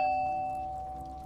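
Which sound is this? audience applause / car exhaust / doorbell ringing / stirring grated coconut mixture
doorbell ringing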